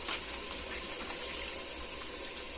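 A kitchen tap runs steadily, a faint continuous hiss of flowing water with no voices over it.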